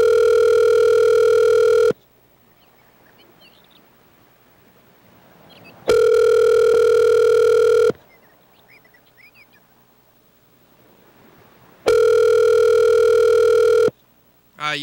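A telephone ringback tone sounds during an outgoing call, three loud steady two-second rings separated by about four seconds of near silence.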